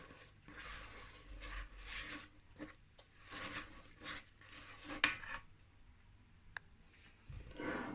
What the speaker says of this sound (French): Je vais maintenant remuer doucement.